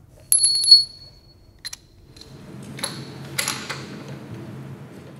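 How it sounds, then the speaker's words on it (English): A wrench works the lug bolts on a freshly installed wheel spacer with the wheel raised: a bright ringing metallic ping up close, then a couple of short clinks and a low scraping rattle. "We want to take our wrench and tighten the lug bolts while they're up in the air."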